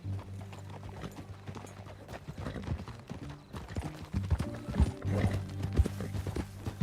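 Hooves clip-clop in a steady galloping rhythm in the video game Red Dead Redemption 2, close and continuous, with rustling and low rumble beneath, like a horse being ridden.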